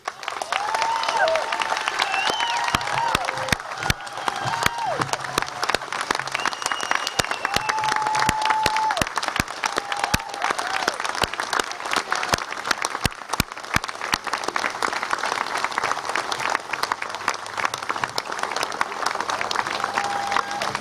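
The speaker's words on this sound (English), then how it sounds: "But you have got to help me give the biggest applause of Republican Day to Steve's hero and my hero" A large crowd applauds continuously, with dense clapping and a few cheers and whistles rising over the steady roar.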